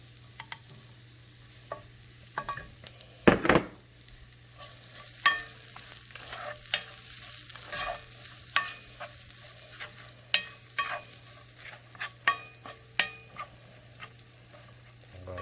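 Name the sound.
onions frying and sizzling in a pan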